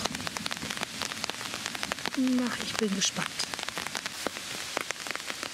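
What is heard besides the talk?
rain falling during a thunderstorm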